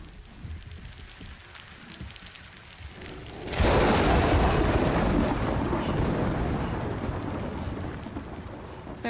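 Rain and a sudden heavy thunder crash in the video game Death Stranding, the steady rain swelling into a loud, rumbling roll that slowly fades while the rain continues.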